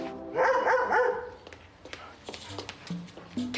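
A dog barks in a quick burst of loud yaps near the start, followed by scattered knocks, thumps and short voices as people talk and shout at the animal.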